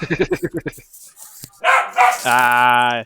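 A person imitates a dog bark with voice: a quick run of about seven short yelping barks, then a pause and a couple of drawn-out, strained vocal howls, close and fairly loud.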